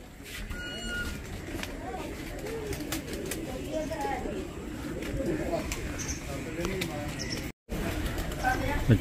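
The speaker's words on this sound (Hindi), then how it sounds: "बड़े सोहने कबूतर ने" Pigeons coo softly in repeated low, burbling calls, with people talking nearby and some outdoor rustling.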